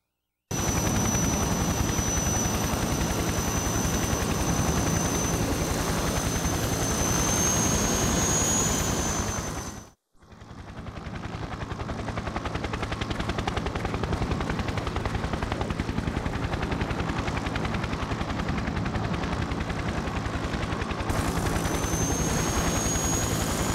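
A helicopter flying in the video game Conflict: Desert Storm, a loud continuous rotor and engine roar close by, briefly dropping out once before resuming steadily.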